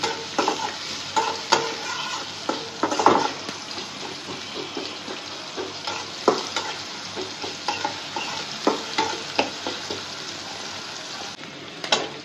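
Red amaranth greens fry in a pan with oil and salt, giving a steady sizzle broken by repeated scraping and stirring strokes from a utensil, close and continuous with no talk.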